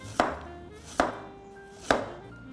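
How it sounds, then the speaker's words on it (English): A knife slices fresh ginger on a cutting board in three crisp, evenly spaced cuts, each a sharp knock against the board, close and alone. "Slice up the ginger."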